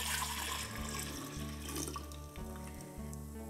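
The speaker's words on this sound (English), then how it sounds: "we'll go ahead and pour it into your glass jar" Cooled kombucha tea is poured steadily into a glass jar, giving a continuous splashing, gurgling rush of liquid with a constant low hum underneath and no talking.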